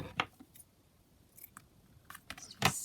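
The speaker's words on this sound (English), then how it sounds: "Let's just snip that off where it was like the join of like the V." Scissors snip lace at a craft desk, several quiet, sharp cuts spaced irregularly over a couple of seconds, with faint rustling between them.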